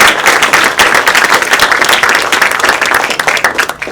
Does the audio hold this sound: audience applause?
yes